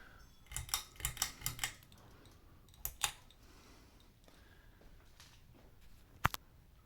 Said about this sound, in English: I left the fan off on purpose for the ASMR of the pull chain.